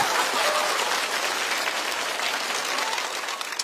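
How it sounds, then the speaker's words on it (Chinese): An audience at a stand-up comedy show bursts into loud, sustained applause that fills the room and tapers only slightly toward the end, with no talk over it. "掌声送给小周。"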